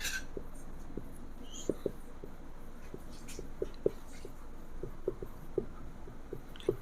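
Faint, irregular taps and scratches of chalk or a marker writing on a classroom board, quiet and close, with soft background murmur.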